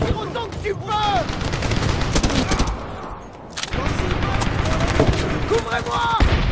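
Sustained gunfire from the video game Medal of Honor (2010), set in the mountains of Afghanistan, with dense bursts of rifle and machine-gun fire, loud and close. Voices shout over the shooting.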